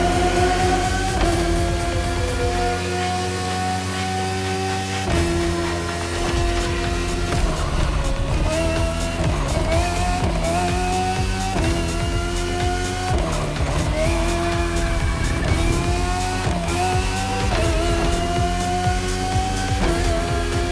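A race car engine held at full throttle on the third lap in The Crew Motorfest, a loud sustained roar with rising and falling revs and gear shifts, continuous throughout with no talk.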